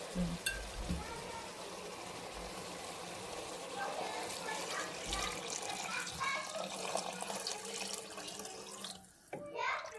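Water runs steadily from a tap in a continuous hissing stream, fairly close, and it cuts off near the end.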